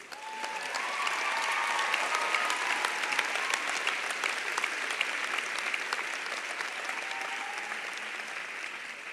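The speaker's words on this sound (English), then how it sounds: "seems to always get an applause these days" At a university graduation ceremony for the Faculty of Arts and Science, an audience claps for about nine seconds. The applause is a dense, even crowd sound that holds steady throughout and fades slightly toward the end.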